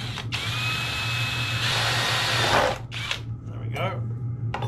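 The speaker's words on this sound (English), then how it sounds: "We'll just drill our plastic bit out." A power drill bores out a plastic part during an adventure bike build, whining steadily in two bursts close by, followed by a couple of short clunks and handling noises.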